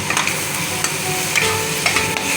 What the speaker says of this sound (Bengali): আমি মশলাটা কষিয়ে নেবো